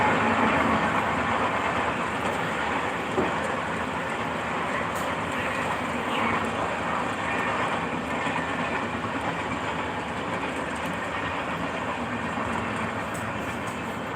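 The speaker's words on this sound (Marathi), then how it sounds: "जोरात आला आता पाऊस" Steady, dense roar of heavy rain pouring down without a break, loud and close, filling the whole stretch with no voices.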